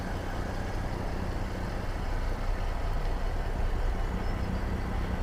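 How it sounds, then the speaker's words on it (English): A Jaguar F-Type engine idles with a steady low burble, a continuous rumbling drone heard up close with no talk over it. "Hear it just burbling away there on idle."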